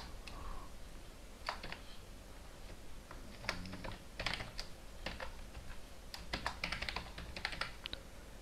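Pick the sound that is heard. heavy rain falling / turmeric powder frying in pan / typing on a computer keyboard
typing on a computer keyboard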